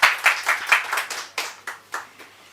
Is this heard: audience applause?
yes